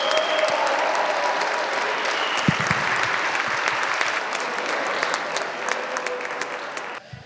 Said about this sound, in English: Please, everybody, give a round of applause for Diego Pillco.